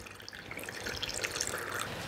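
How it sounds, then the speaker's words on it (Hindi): Hot water pouring into a rubber hot water bottle, a steady trickling, splashing stream filling it at close range, continuous and alone for about two seconds. "गर्म ठंडी सिकाई के लिए हमें एक ये रबड़ वाली बॉटल चाहिए और इसके लिए हमें इसमें गर्म पानी भरना है"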